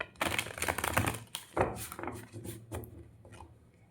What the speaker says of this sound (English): I will be shuffling the cards